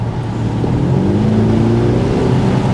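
An Audi SQ5 diesel SUV, 341 horsepower, accelerates at full throttle, its engine drone rising steadily in pitch and loudness as it pulls hard, heard from inside the cabin with a low rumble underneath.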